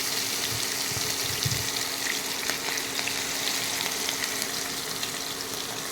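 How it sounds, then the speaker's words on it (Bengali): Koi fish fry slowly in oil, giving a steady, even sizzle and crackle that carries on without pause and with no talking. "মাছগুলো এবার আস্তে আস্তে ভাজা হবে।"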